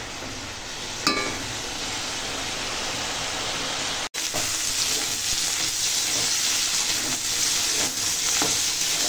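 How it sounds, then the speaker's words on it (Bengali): Bitter gourd frying in a pan gives a loud, steady sizzle with a broad hiss that runs without a break from start to end, with a single sharp tap near the start and no talking. "উচ্ছেটা এখন ভাজা হচ্ছে"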